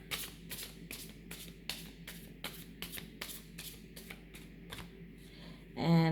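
Tarot cards shuffled by hand to clear them, a rapid run of crisp riffling flutters repeating steadily at close range, ending in a brief louder rustle.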